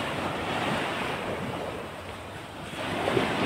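Rough sea waves wash and roar in a continuous broad surge, with wind buffeting the microphone and no one speaking.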